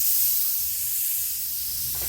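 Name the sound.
spray painting a fireplace mantel outdoors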